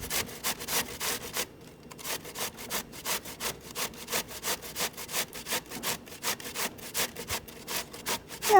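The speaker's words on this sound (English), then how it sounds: "Get your box grater, and just start grating away. Grate away the zucchini." Zucchini grated on a metal box grater, a steady run of rhythmic rasping strokes, close and fairly loud, with one brief pause near the start and no talking.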